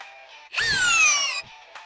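Cordless brushless hammer drill running in drill mode at speed 2, one short burst of about a second with a whining motor pitch that rises and then slides down, close by, with quiet gaps on either side.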